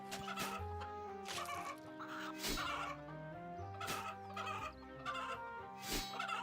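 Chickens clucking in the RuneScape video game, repeated short clucks and squawks in a rhythmic pattern over steady tonal game music.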